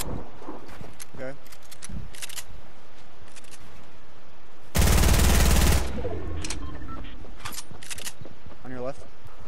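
Gunfire from a mobile shooter video game, mostly a dense loud burst of about a second, with scattered game effects before and after and people talking throughout.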